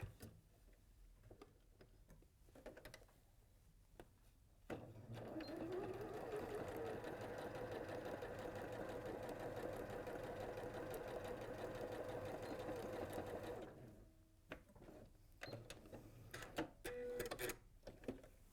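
A sewing machine hums steadily at close range for about nine seconds as it stitches along a drawn line, with faint handling clicks before and after.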